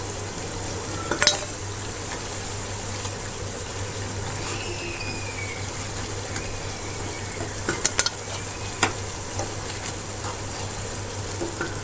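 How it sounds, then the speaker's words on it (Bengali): Slow frying on low heat in a pan while making a sweet-sour-spicy prison cake, a quiet steady sizzle with intermittent metallic scrapes and clinks of a utensil against the pan, no talking. "ভেজে নিলাম, বেশি আঁচ দিলে পুড়ে যাবে।"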